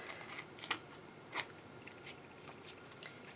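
Scissors snip off small protruding paper edges on an Art Deco wall hanger craft project. A handful of quiet, sharp, close cuts are spaced irregularly against a faint, hushed background.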